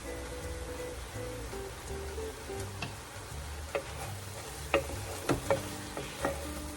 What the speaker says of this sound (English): we're looking to soften them. So it should just take about 5 to 7 minutes for that to happen in here.